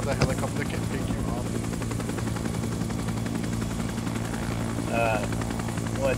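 A helicopter's rotor thuds in a fast, steady beat throughout, loud and close, with voices talking over the engine noise.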